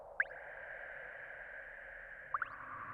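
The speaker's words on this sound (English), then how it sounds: "It's just a sine wave which goes up in pitch. And that creates a droplet effect." Two or three quick rising bloops, like water droplets, made by a sine wave sweeping up in pitch on the Harmor synth, pop over a constant hissy synth drone, one early and a pair near the end.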